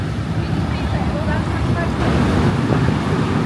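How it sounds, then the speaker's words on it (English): Wind gusts up from a street grate in Paris, a steady broadband roar buffeting the microphone at close range for several seconds, with no clear talk over it. "real windy coming up from that grate"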